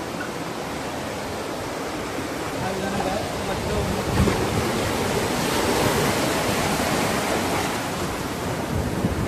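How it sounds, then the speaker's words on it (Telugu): Strong sea waves at RK Beach in Vizag, a dense continuous roar of surf and wind, loud and unbroken, with a slight surge midway. "అల్ల అయితే గట్టిగా ఉన్నాయిరా"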